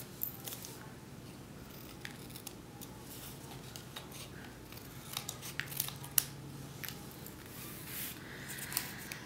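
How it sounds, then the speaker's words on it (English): Scissors trim paper in a quiet room, with soft repeated snips and slicing scrapes close by, irregular and faint against a low background hiss. "I'll just trim all that off."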